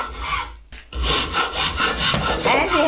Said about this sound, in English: Filing.